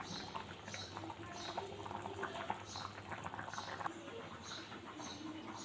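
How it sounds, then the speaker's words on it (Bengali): A pointed gourd and coconut curry simmers with garam masala in a pan, giving a soft, steady bubbling and sizzling close by that carries on without a break. "গরম মশলা দিয়ে একটু জাল দিয়ে হয়ে আসছে প্রায়"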